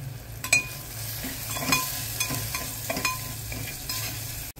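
Homemade masala with turmeric and salt being sautéed in a pan for egg masala: a constant oily sizzle under rhythmic spoon scrapes and taps against the pan, close by.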